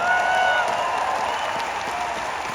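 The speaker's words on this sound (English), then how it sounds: "So give my partner Shubh a round of applause." An audience gives a steady round of applause at a stage event, dense clapping sustained throughout with some crowd noise mixed in.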